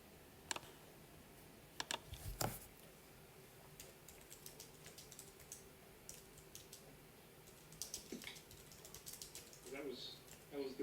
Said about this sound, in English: That was the teacher's typing an explanation of that whole question